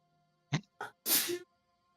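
One person sneezes close by during a live tabletop role-playing session: two short catching breaths, then a loud, explosive sneeze, with no other sound around it.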